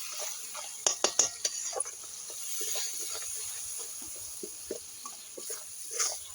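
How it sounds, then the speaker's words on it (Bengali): A spoon scrapes and clinks against a pan as turmeric and spice paste are stirred and sautéed for a fish curry on a small clay stove, producing a few sharp taps over a faint sizzle, with no voices. "মশলা দিয়ে দিয়েছি, এবং মশলাটাকে কষাবো"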